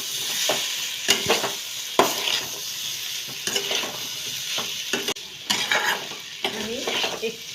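A spoon stirs boiled wheat-flour pasta frying in a pan, steady sizzling under repeated scrapes and clinks of utensil against metal, loud and close with no talking.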